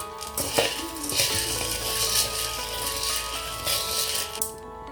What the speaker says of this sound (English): Now I put this inside a pot, and we're gonna heat it until it becomes black.